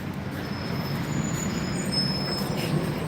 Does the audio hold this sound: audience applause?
no